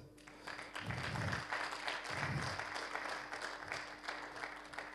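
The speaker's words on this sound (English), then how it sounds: "Let's clap our hand." Wedding congregation clapping together inside the ceremony, a moderately loud, spread-out patter of many hands that swells and continues steadily, with a low hum underneath.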